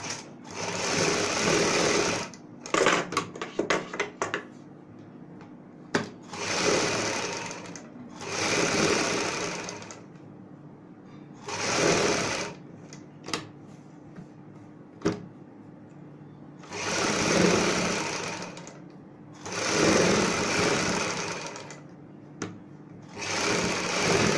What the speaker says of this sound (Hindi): बुकरम के साथ साथ सिलाई लगाएंगे